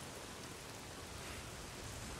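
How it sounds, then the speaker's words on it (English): Heavy rain in the video game Days Gone, a steady, dense broadband hiss that stays loud and unbroken throughout with no other sounds on top. "Dude, this rain is so loud."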